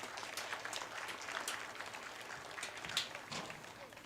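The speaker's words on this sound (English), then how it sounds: "Let's give a round of applause for Lathan." A crowd at a high school football game applauds a senior player, scattered clapping and a few sharp claps heard from a distance, faint and uneven across the open stadium air.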